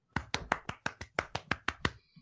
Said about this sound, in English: Oh, you were clapping.